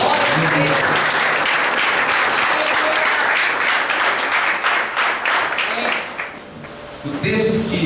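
A church congregation applauds loudly and steadily, with some voices mixed in. The clapping thins briefly near the end before swelling again.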